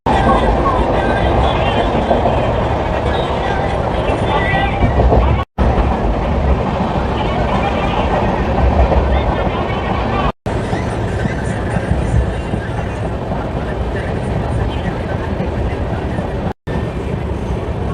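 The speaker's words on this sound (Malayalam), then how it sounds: "ഒരു ട്രെയിൻ വരുന്നുണ്ട്." An Indian Railway train near Begumpet railway station gives a loud, steady, close rumble throughout, with three brief dropouts.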